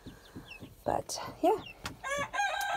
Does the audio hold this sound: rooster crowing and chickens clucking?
yes